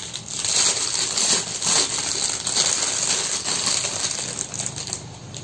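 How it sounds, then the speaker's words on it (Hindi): Cashews and almonds drop into a 3-in-1 dry fruit cutter, making a steady, close, hard rattling and clattering with dense clicking that keeps going throughout. "अब मैं इसमें डालती हूँ ड्राई फ्रूट्स।"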